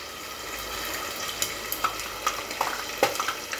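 Pastel frito frying in oil in a covered pan, a steady soft sizzle with scattered sharp pops and spatters, close and fairly quiet, without voices.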